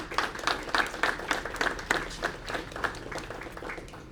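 Applause for police department staff at a Sarasota police chief appointment event, a modest crowd clapping in uneven, audible bursts that fade gradually, with no talk over it.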